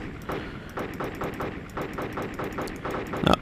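A small burst of rapid, evenly spaced cannon fire from an AH-64 Apache helicopter in the video game Arma 2, a steady rattling stream of shots ending in a sharper impact.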